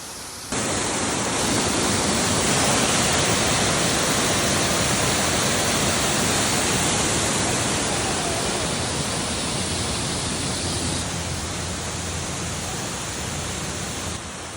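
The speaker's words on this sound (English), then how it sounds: "We enjoyed both the waterfalls" A waterfall at Las Cascadas Bribri in Costa Rica roars as a steady, dense wash of falling water, loud and unbroken for the whole stretch with no voices.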